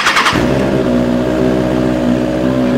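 A 2024 Kawasaki ZX6R stunt-build motorcycle engine catches with a short burst and then runs loud and close, holding a steady, throbbing idle with a faint rise in revs.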